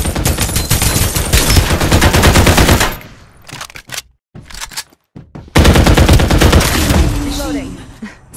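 Rapid automatic weapon fire in the shooter game Farlight 84, loud dense bursts that break off into scattered single shots and silences before another long burst resumes.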